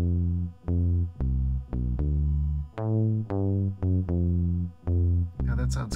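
An 80s-style synth arpeggio from a Korg volca bass and Roland J-6, with chorus added, repeating bright plucked notes in a steady rhythm, loud and upfront with no voices.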